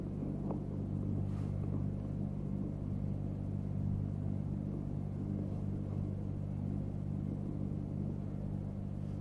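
The Apollo 17 rocket launch comes through as a steady, dense, low rumble that stays at a constant level throughout, with no voices heard.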